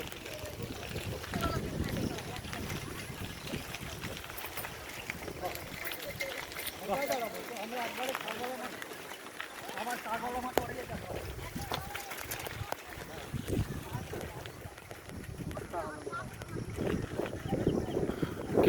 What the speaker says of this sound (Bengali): কি সুন্দর হাওয়া।